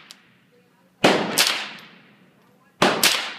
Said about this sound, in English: Y'all are shooting at the bottom target.